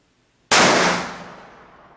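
A single .50 BMG rifle shot cracks sharply and very loudly outdoors, followed by a long decaying rumble and echo that fades over about a second and a half.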